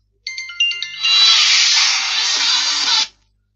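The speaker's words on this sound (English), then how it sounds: "I thought I'd put the phone on silence." A mobile phone rings loudly and close by, opening with a few short beeping chirps, then a sustained bright buzzing tone that holds for about two seconds before cutting off.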